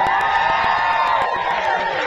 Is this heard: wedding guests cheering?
yes